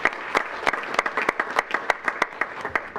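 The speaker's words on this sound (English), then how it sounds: "let's give him a round of applause anyway" An audience at a school board meeting claps in a brief round of applause, with distinct, fairly sparse hand claps repeating in a loose rhythm.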